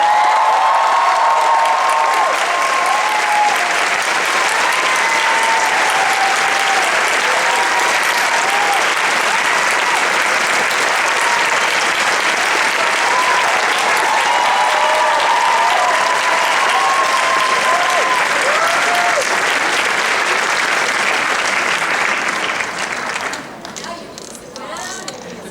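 Sustained applause from a large Comic Con panel audience in San Diego, loud and steady with scattered cheers for nearly the whole stretch, tapering off sharply at the very end.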